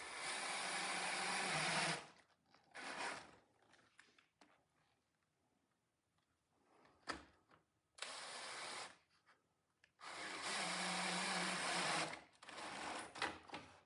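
A drill drives 1.5 inch lag bolts while a drill press is being mobilized, giving several loud whirring bursts a few seconds long with quiet gaps and small clicks between them.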